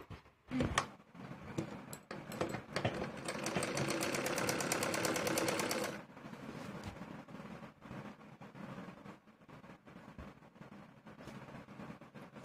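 Sewing machine stitching the bottom seam of palazzo pants fabric, a rapid, even mechanical chatter running for several seconds after a few sharp clicks, then quieter handling sounds.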